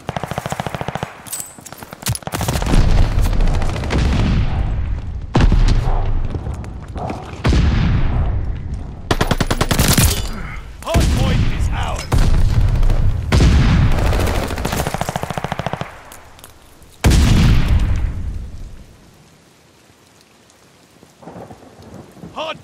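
Gunfire at a hardpoint in a video game: loud, dense bursts of automatic fire and booming blasts in long stretches, broken by short pauses, then dropping to near silence before a final burst.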